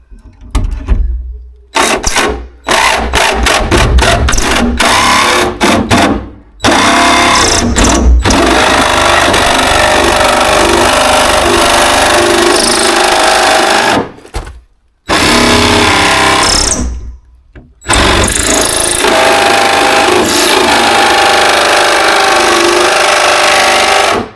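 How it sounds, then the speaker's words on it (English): A cordless jigsaw cuts out the rest of a panel already drilled with holes around its outline, a loud, continuous buzzing saw run broken by several short stops and restarts. "now I'm just going to use a jigsaw now and just take the rest out"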